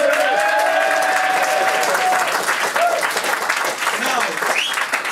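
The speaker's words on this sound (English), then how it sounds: "You, round of applause for Paul." A live show audience claps steadily for a departing guest, a full room of applause at constant strength with scattered shouts and voices mixed in.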